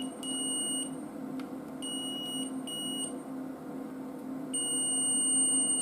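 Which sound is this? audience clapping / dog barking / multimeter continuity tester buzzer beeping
multimeter continuity tester buzzer beeping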